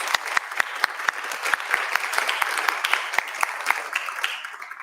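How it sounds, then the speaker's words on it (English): Audience applause for a team at an awards ceremony, a crowd of sharp claps with several individual claps standing out near the front, sustained and moderately loud throughout. "Let's give the BOP team a big round of applause."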